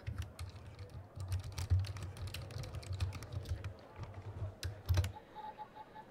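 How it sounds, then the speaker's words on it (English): Rapid, steady keystrokes patter on a computer keyboard in the video game The Operator, close and fairly quiet, with brief pauses and a couple of sharper clicks near the end. "I'll use the keyboard now."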